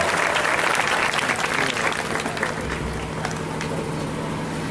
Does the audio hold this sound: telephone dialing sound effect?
no